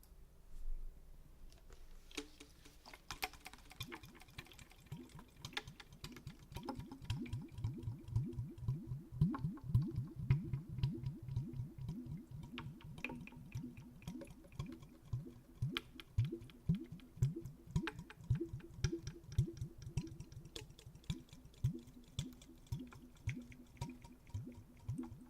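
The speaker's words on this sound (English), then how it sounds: "let's do a little bit of the pomegranate" A pomegranate handled for ASMR gives a long run of soft, close, rhythmic wet crackles and squishy clicks, quiet and steady with no voice.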